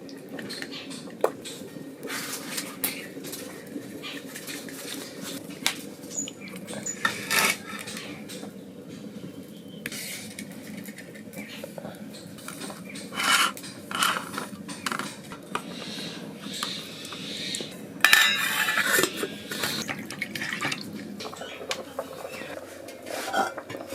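Food going into a steel tiffin box, with light metallic clinks and taps of a spoon against the box scattered throughout, close, under a person talking.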